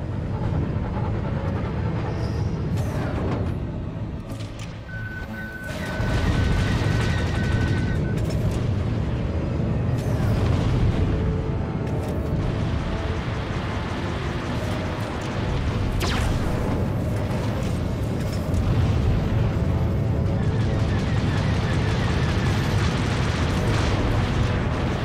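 Missile strikes and explosions on a target ship in a naval video game, a sustained rumbling roar of blasts and bursts, dipping briefly before a heavy boom swells back and keeps rolling.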